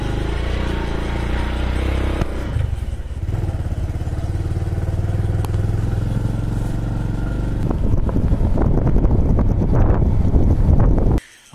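Motorbike ridden by a young woman on a hill road to a local market in Uttarakhand, a steady engine drone with heavy wind buffeting throughout, rising rougher and louder near the end before cutting off abruptly.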